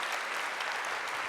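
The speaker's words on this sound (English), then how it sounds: "could we all just clap for them?" An audience claps throughout at an opening ceremony and keynote for a ceramics conference, steady dense applause filling the hall with no break.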